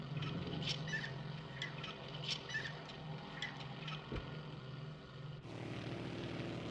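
Propeller aircraft engine climbing in a flight simulator game, a steady droning hum with faint clicks and a brief thump, then a sudden brighter rush of engine noise near the end.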